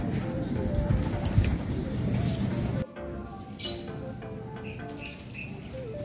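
Racing pigeons come in at the loft amid a busy, noisy backdrop that suddenly drops away, leaving soft coos and scattered chirps and wing flutters nearby, with faint voices in the background.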